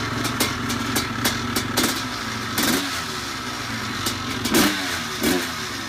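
A two-stroke motorcycle engine revs up in a rapid string of sharp, ringing blips, rising and falling over a buzzy idle, loud and close with no talking.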